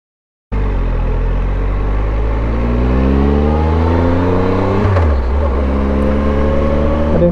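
A motorcycle starts off uphill on a historic main street in Tazewell, Virginia. The engine kicks in abruptly, loud and close, and climbs through rising revs, with a brief gear change midway before it pulls on steadily.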